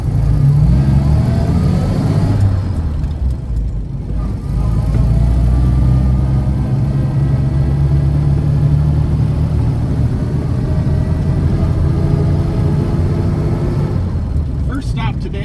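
A 1931 Chevrolet's engine droning loudly while driving, rising and settling as it is downshifted, with gear changes breaking the steady note; a person talks over the running engine throughout.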